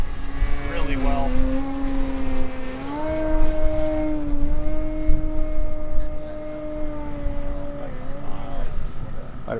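Sebart Extra SX 61-inch 6s electric RC aerobatic airplane in a flat spin, a steady whining motor tone that wavers and shifts pitch, heard from a distance with a voice talking over it.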